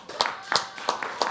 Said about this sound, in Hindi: ज़ोरदार तालियों के साथ हम बुलाएंगे श्रेयस